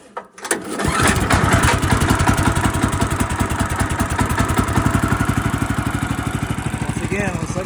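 A small gas-powered engine, used for cutting white pine logs, catches on a pull-start and settles into a steady, fast putter, loud and close, running alone after a brief rattle of the start cord.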